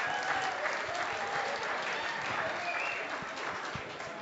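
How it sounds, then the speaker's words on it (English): A student union audience at an election results night breaks into sustained applause, a dense, even clatter of many hands clapping that holds steady and then eases slightly toward the end. "So I think it's about time we gave Poppy a massive round of applause for tonight's results."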